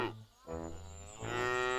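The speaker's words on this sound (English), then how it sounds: "I don't neigh, I bray." A donkey on a farm brays in long, loud, harmonic honking calls that rise and fall, heard alone and fairly close.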